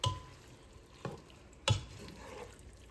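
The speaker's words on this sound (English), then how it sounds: "I'm gonna stir these tomatoes in." Tomatoes are stirred into a sizzling meat sauce with garlic, mushrooms and sausage: three distinct spoon scrapes and knocks against the pan over a soft, quiet frying hiss, with no voices.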